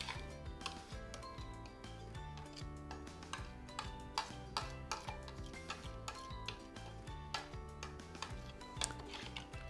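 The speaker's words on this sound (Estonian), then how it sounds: "ja ma segan ta lihtsalt korraks läbi" Spoon stirring a bread-bun dough mixture in a bowl, a quiet, rapid series of clinks and taps against the bowl, repeating steadily throughout.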